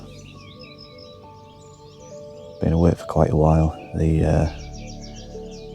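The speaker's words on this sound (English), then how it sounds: "The birds started making noise when it was still dark, so you hear everything in there." Dawn birdsong outside a remote hilltop church comes as faint, scattered chirps and tweets in the background while someone speaks briefly nearby.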